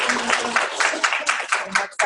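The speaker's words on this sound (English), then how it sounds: "let's give Lee a round of applause." A round of applause at a meeting, a small group clapping in loose, uneven bursts at moderate volume, fading toward the end with some voices mixed in.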